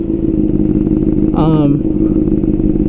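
A Honda CBR600RR motorcycle pulls away as the clutch is released, giving a steady, close engine rumble with no added throttle; a brief voice-like sound cuts in halfway through.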